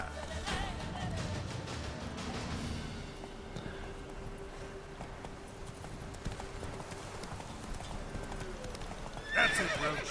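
A horse in The Witcher 3 video game gallops with rapid, steady hoofbeats over game ambience, ending in a loud neigh near the close, with no speech.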